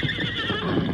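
A horse gives a shrill, wavering neigh, loud and close, over a brief rumble of hooves in an old western radio drama.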